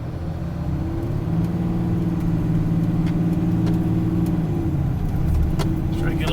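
A truck with no chains climbs an icy, snowy mountain hill, its engine droning steadily and loud from inside the cab, with faint rattles and clicks over the continuous rumble.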